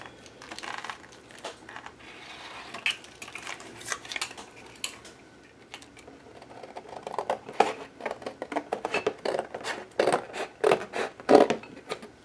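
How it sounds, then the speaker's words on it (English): Scissors cutting a small half-circle tab out of paper for a board book, a long run of close, irregular snips and paper rustles that grow busier and louder toward the end. "So I'm going to cut this little half circle out"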